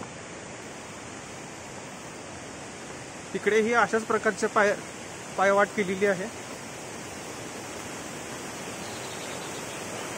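Barki waterfall deep in the jungle near Kolhapur sends a steady, even rush of falling water from a distance, continuing unchanged under two short bursts of someone talking in the middle.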